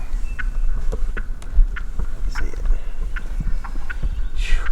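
Several wild turkeys gobble repeatedly at varying distances on a Kentucky spring hunting morning, with the calls overlapping against a low outdoor rumble.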